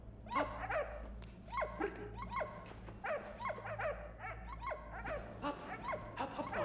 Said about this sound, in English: Can the dog jump here or something?